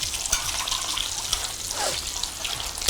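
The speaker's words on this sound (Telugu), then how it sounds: "బాగా పిసికేసి ఇలా దేవుతూ కడుక్కోవాలి." Soaked shrimp shells are squeezed and rubbed by hand in water, making close, continuous wet sloshing with small splashes and drips.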